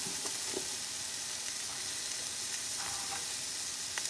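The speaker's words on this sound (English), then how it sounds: "We're gonna add our onions now." Onions hit a hot pan during chow mein cooking, giving a loud, dense, continuous hiss of frying with a few faint stirring clicks underneath, close and steady.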